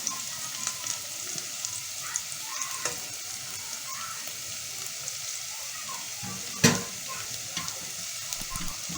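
Garlic drops into corn oil with onions already fried golden, a steady close sizzle and crackle with occasional stirring and one sharp clatter partway through, for moussaka with cooked eggplant.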